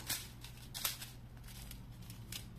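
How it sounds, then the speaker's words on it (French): A small pair of scissors makes a few faint, sharp snips spaced apart over a low background hum, with no talking. "Une petite paire de ciseaux."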